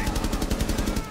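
Rapid automatic gunfire from the video game Rainbow Six Siege, during an easy terrorist hunt match, rattles out in a fast, evenly spaced burst of loud, close shots lasting about a second.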